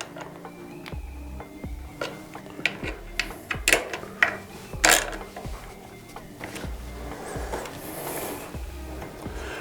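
Bolts being done up on a Mustard Bikes tail tidy fitted to a 2024 CFMOTO 450MT: repeated small metallic clicks and ratchet-like ticks, close and moderately loud, with a few sharper knocks midway and no talking.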